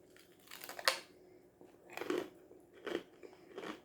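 Snacks being crunched and chewed up close, with a sharp bite followed by a few irregular crunchy mouthfuls separated by quiet gaps.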